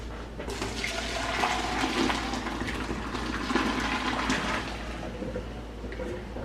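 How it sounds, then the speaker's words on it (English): Hot water from cooked green beans pours out in a steady rushing gush as the pot is drained, loud and continuous in a kitchen with no talk. "Now we're going to drain the green beans."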